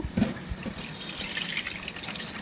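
Chana dal lentils are rinsed and washed in water, a close running, sloshing wash with light splashes and dribbles that carries on steadily and no talking.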